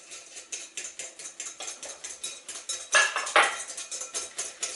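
A utensil taps and scrapes rhythmically against a bowl while sugar pie dough with melted butter is mixed, a quick, fairly steady clatter with a couple of louder knocks near the end.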